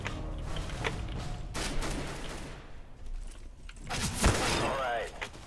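Gunfire in Counter-Strike: Global Offensive during an Arms Race match, a few sharp shots and short bursts with mechanical clatter, moderately loud amid quieter game ambience.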